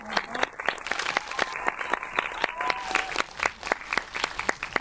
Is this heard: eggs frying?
no